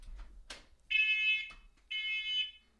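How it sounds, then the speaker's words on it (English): A household smoke alarm shrieks in two sustained piercing beeps about a second long, clear and fairly close, after a few soft clicks and rustles. "The fire alarm's going off."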